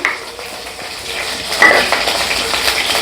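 Butter melting and sizzling in a pan for Punjabi street-style pav bhaji, a soft steady hiss with clinks of a spoon or utensil against the pan and a louder scrape midway.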